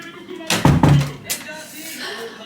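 A few sharp knocks, two or three quick raps close together, followed by a fainter thud, with quiet voices around them.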